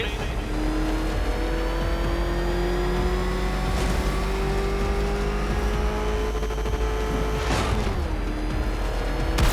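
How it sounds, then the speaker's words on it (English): Car engine revving and roaring steadily in the video game Batman: Arkham Knight, a loud continuous motor drone with pitch rising and shifting, a brief surge or skid near the end, with a voice talking over it. "Can that ramshackle motor handle this?"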